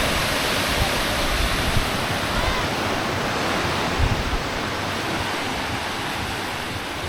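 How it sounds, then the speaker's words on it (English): Ocean surf rolls onto a small sandy beach at Sayulita, Mexico, a steady broadband wash of breaking waves close by, continuous and loud with slight swells, no voices. "Get waves coming in here that probably get channeled into bigger ones"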